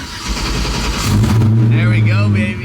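A Chevrolet S10 pickup truck's engine runs and revs as the truck pulls away, a steady mid-pitched drone rising in tone, loud and close, with a voice talking over the first half.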